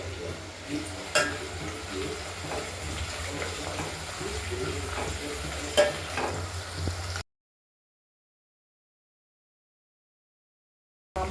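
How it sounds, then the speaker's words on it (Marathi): Whole spices for prawn biryani sizzle softly in a pan, a steady low crackle with occasional clinks of stirring. The sound is faint and continuous for about seven seconds, then stops abruptly, leaving silence. "अख्खा मसाला परततो ना, वास एकदम मस्त."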